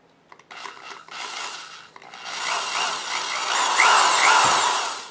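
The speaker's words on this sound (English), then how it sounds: "I used a 7/64 drill bit here" A steady grinding whir of a drill with a 7/64 bit boring small holes in a candle holder base, building louder over several seconds after a few brief starts, close and continuous.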